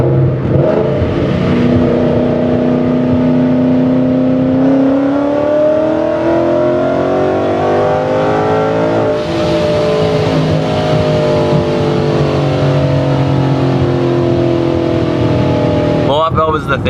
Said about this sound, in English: Alright, we'll get a little third gear pull here.